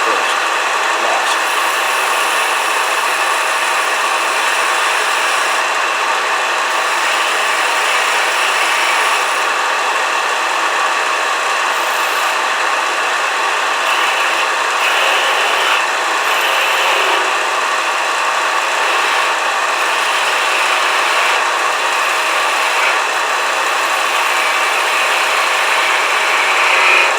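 Steady abrasive rasping of sandpaper against a wooden bottle stopper spinning on a lathe, a continuous close hiss over the motor's even hum that runs unbroken and loud for the whole stretch.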